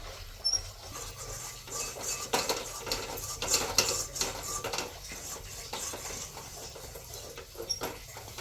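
A sweet flattened-rice mixture being stirred in a pot with cumin powder, heard as steady, faint scraping and clinking of a spoon against metal, with soft irregular taps throughout and no voices.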